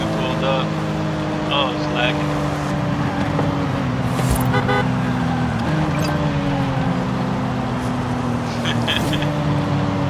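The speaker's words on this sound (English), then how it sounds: "And then look, somebody pulled up in a Mustang." Ford Mustang in Forza Horizon 5 idling and pulling up among other cars, a steady engine drone with shifting harmonic tones that holds throughout, with brief horn-like toots and a constant background of traffic.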